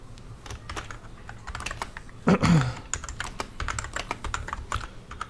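Typing on a computer keyboard gives a run of quick, irregular key clicks, close and fairly quiet, with one louder thump partway through.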